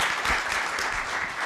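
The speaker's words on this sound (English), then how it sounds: "We have to clap for everyone." Brief burst of audience applause at a cohort celebration summit, a dense steady patter of many hands clapping close by with no talk.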